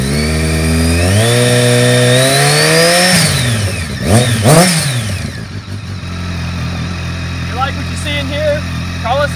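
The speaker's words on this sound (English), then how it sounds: "Hear that ZTechnik exhaust work for" A 2005 BMW K1200S motorcycle with a loud aftermarket ZTechnik exhaust revs up and down repeatedly, deep and raspy, then drops back to a rumbling idle.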